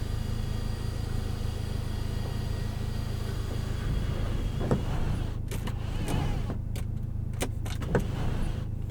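Inside a 2025 Audi S3, the electric sunroof motor hums steadily over low cabin rumble, with a few faint clicks and mechanical knocks as the panel moves; no one speaks.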